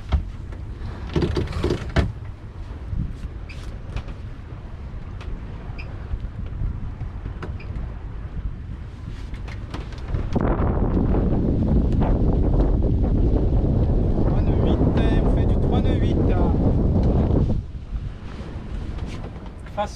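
Wind buffets the microphone aboard a sailboat sailing upwind in the Brest roadstead, a steady rush with water noise that swells louder and fuller through the middle of the passage.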